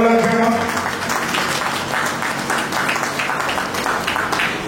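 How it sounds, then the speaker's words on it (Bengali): An audience claps at a theatre opera company's auspicious opening ceremony, steady applause from many hands that follows a brief voice and continues evenly to the end. "আপনার একটু হাততালিটা দিন"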